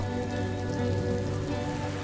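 Heavy rain falls steadily on a house roof in a cartoon fairy tale scene, a dense, continuous patter with no voices.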